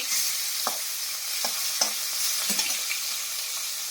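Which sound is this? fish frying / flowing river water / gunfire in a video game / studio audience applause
fish frying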